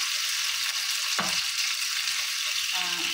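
Leftover food reheating in a pan with a little cooking oil sizzles loudly and steadily, with a brief stirring scrape partway through and no talking.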